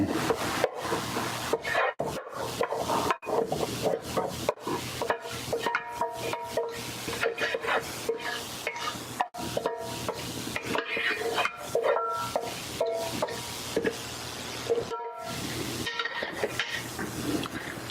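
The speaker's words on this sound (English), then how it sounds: "you just want to mix that up really, really well" A cauliflower pizza crust mixture with oregano, garlic powder, salt, eggs and cheese is stirred and worked in a bowl, making continuous close scraping and rubbing strokes with steady rhythm throughout, no talking.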